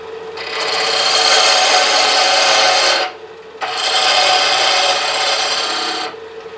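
Bedan chisel cutting spinning wood on a lathe while shaping a small coffee spoon, two loud raspy scraping passes with a short pause between them, close and steady.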